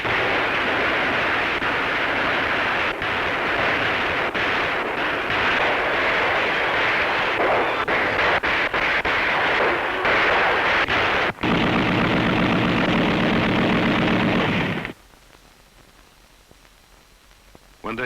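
Gunfire sound effect, a dense, loud barrage of shots and blasts running almost continuously for about fifteen seconds before cutting off to near silence.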